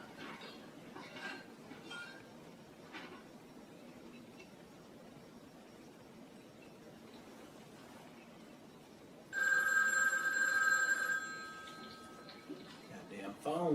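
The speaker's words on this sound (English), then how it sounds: "Goddamn phone keep ringing" During a TV drama, an old telephone bell breaks in loudly with about two seconds of bright ringing after a stretch of quiet talk and scattered small sounds, and another burst starts at the very end.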